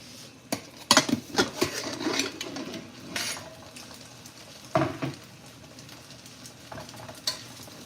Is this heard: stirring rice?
yes